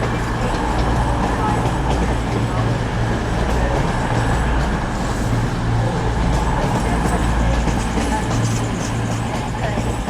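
A Class 220 train, unit 220.013, running a York to Reading service at Doncaster station, gives a steady loud rumble of engine and wheels close by, with station background noise and possible announcements.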